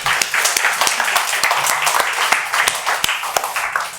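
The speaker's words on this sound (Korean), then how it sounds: "우리 하나님께 영광의 박수 올려드리겠습니다." A church congregation claps at a worship service: dense, steady applause from many hands fills the room at close range and stays loud throughout.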